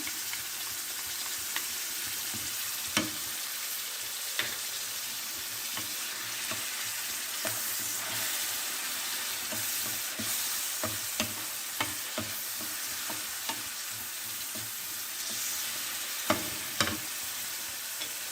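Garlic frying in a hot pan, a steady dense sizzle lasting throughout, with scattered sharp clicks and scrapes as a utensil stirs it, close and without talking.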